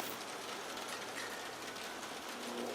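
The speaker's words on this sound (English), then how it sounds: "it is raining. You might be hearing some pitter-patter behind the scenes here" Rain patters steadily outside as a dense, even hiss with no breaks and no voices.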